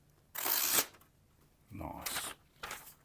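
Sharpened Wusthof kitchen knife slicing through thin telephone book paper, producing three short, crisp swishing rasps, close and quiet, with brief pauses between.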